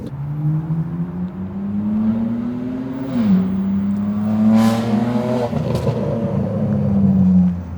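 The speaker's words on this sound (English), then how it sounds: "I think the catless downpipes is just too much, especially for that car." An 800hp BMW M340i S58 engine with catless downpipes revs hard and loud with a raspy, crackling exhaust, its pitch climbing, dropping sharply, then climbing again in sustained pulls.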